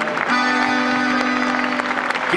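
An audience applauds steadily at a chamamé performance at Tecnópolis, a dense, even wash of clapping lasting the full stretch with no talk over it.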